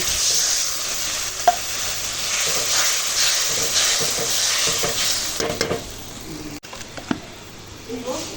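Spicy red fried spice paste for a pomfret curry sizzles and hisses in a pan as water is poured in and stirred, a steady broadband frying sound with occasional utensil knocks; a voice is faintly present.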